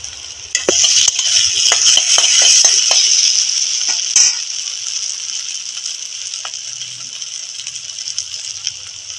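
Onion, turmeric and dried chili powder frying in a pan with salt, a steady loud sizzle alongside scraping and clinking of a spoon stirring the spices.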